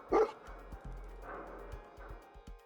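Dogmeat, the dog companion in Fallout 4, lets out a loud bark at the start, followed by softer yips and scattered thumps under a low game soundscape.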